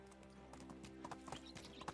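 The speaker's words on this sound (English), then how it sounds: "What should I name my donkey?" Donkey walking in the video game Medieval Dynasty, quiet hoof clip-clops in an irregular plodding rhythm over a faint steady background hum.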